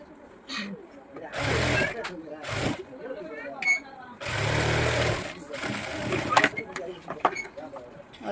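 A sewing machine stitches a blouse sleeve in two main loud runs of steady mechanical whirring, with shorter bursts and pauses between them, close by.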